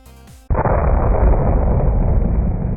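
Scripted explosion in a Roblox natural disaster survival game: a brief tone cuts off into a sudden loud blast that keeps roaring as a sustained, dense rumble to the end.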